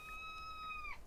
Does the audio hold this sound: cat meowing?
yes